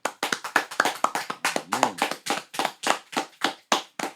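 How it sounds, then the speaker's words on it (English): A small round of applause on a UK rap podcast, a few pairs of hands clapping close and sharp in quick, uneven bursts, with no talk. "Can I get a round of applause?"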